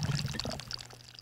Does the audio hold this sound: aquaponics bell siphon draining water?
yes